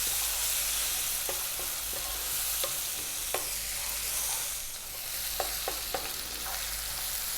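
Bacon and garlic frying in a pan on medium heat: a steady loud sizzle with scattered scrapes and taps as the pan is stirred, close up and without talking.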